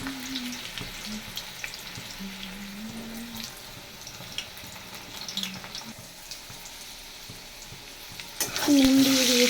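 Potatoes frying in a pan for a soybean dish, a faint crackling sizzle with occasional stirring taps, then a louder burst of hiss near the end.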